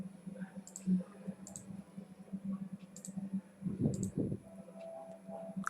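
Mouse clicks in Microsoft Excel 2010 while setting up conditional formatting: sharp, light clicks at irregular intervals over a low, steady background hum, with no talking.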